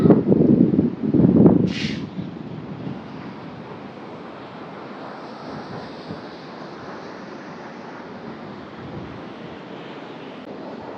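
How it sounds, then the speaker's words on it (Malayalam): Steady wind buffeting the microphone at a beach in Da Nang, Vietnam, with surf rumbling beneath; a couple of heavier gusts at the start, then a constant even roar. "നല്ല കാറ്റ്, എന്താ രസം."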